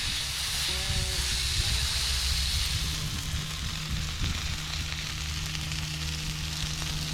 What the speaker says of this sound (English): Before blending our chimichurri, I'm going to flip the steak.